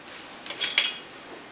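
A big metal spoon scrapes and clinks against a bowl while pizza dough is mixed, two short close scraping bursts with no talk.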